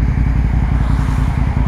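Motorcycle engine idling close by, a loud, steady low-pitched throb with a fast, even pulse and no change in speed.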